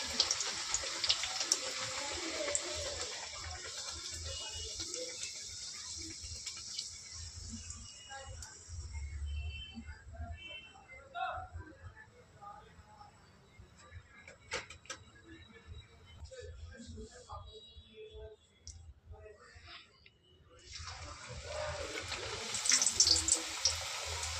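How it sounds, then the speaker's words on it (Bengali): Kachori frying in hot oil, a steady hissing sizzle that thins out in the middle and grows loud again at the end, with a voice speaking faintly in places. "দেখো, আরও একটা ভেজে নিচ্ছি আমি।"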